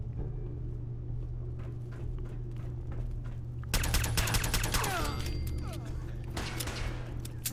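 Rapid gunfire from Gunners in Fallout 4 breaks out as a dense, fast volley of sharp reports over a steady low rumble of background machinery, with scattered earlier pops before the main burst.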